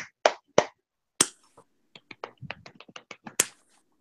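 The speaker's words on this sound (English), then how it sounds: "No, I'm doing a golf clap." A golf clap: sparse, light single hand claps, a few spaced pops first, then a quicker run of soft, close claps, alone with no talk.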